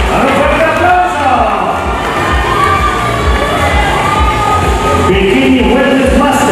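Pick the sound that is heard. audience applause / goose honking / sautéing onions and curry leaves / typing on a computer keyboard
audience applause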